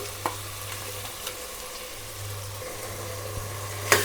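Ginger-garlic paste sizzles with vegetables in a pan for soya pulao, a steady close frying hiss with faint steady hum underneath and a few light clicks of stirring.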